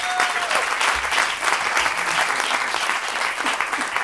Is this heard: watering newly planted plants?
no